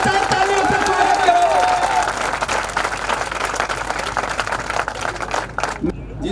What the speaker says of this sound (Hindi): सब जोरदार तालियों से स्वागत